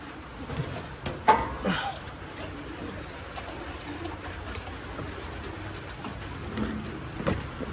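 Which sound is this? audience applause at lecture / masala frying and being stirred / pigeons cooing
pigeons cooing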